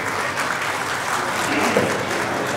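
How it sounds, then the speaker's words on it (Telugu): Warm, steady applause from an audience at a real-estate company's first anniversary celebration in Nellore, many hands clapping together at an even level for the firm's chairpersons, with faint murmurs underneath. "క్లాప్ ద్వారా హృదయపూర్వక ధన్యవాదాలు తెలియజేసుకోవాలని మరీ మరీ కోరుకుంటాను"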